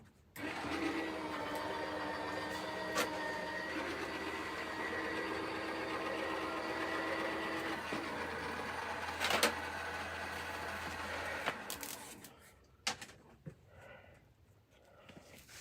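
A die-cutting machine rolls satin card through an embossing sandwich with a steady mechanical whir and hum lasting about twelve seconds, then stops, leaving a few faint clicks and handling sounds.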